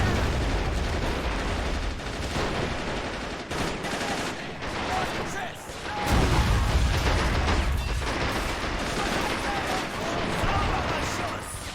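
Guns fire in a Stalingrad 1942 battle in the game Men of War: Assault Squad, with dense, steady shots and bursts that run for the whole stretch and swell loud near the middle.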